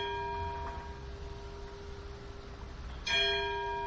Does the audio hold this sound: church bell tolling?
yes